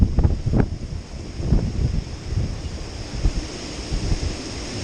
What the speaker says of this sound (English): There's been some very heavy gusts of wind coming through since I started walking back.